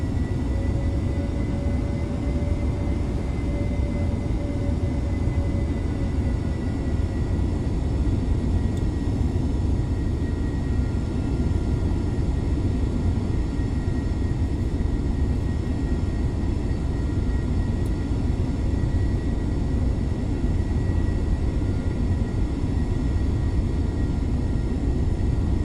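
An F-22A Raptor jet taxis out toward the runway, its engines a steady, loud rumble with a high, sustained whine that holds evenly throughout, heard from inside the cockpit with no talking.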